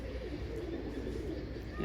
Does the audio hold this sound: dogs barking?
no